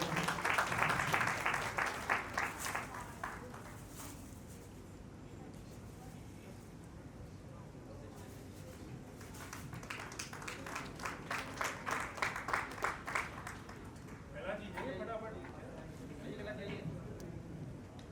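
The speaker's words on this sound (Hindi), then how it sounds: "कृपया जोरदार तालियों से स्वागत करेंगे" A gathered audience claps to welcome arriving guests at a formal event, with two bursts of brisk, rhythmic applause separated by a spell of quieter talk and murmuring, while a voice speaks now and then.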